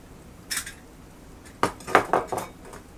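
Bacon beer jam stirred in a pot, a spoon clinking and scraping against the metal in short bursts, one early knock and then a quick cluster of clatters, close and with no talking.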